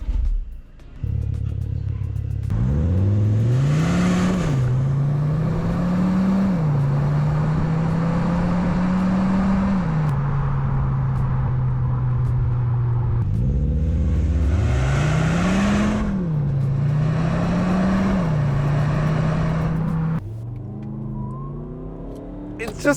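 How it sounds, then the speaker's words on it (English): Skoda Kodiaq RS 2020 SUV in sport mode, its exhaust rising and falling through repeated revs and accelerations, loud and close, with deep droning pitch swings and brief lifts between pulls. "here's a short compilation of what the exhaust sounds like in sport mode"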